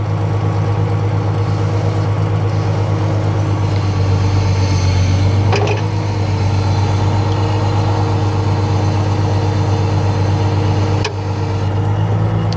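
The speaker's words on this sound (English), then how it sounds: "And then I'll go ahead and spin the boom." Freightliner Unimog FLU419 runs a steady low diesel drone while its hydraulic boom swings on asphalt, with a couple of brief mechanical knocks over the constant hum.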